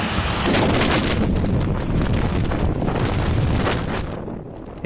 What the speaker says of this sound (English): thunderstorms triggered large hail and wind gusts reaching up to 80 kilometers per hour